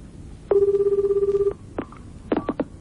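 A Japanese telephone on a 1995 recorded phone call rings once with a long, loud, buzzy trill for about a second, then breaks into a few shorter bursts as the call connects.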